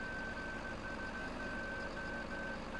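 A truck's reversing alarm in Farming Simulator 2015 beeps in a repeating pattern of short and long tones over a constant engine drone, loud and close with no talk.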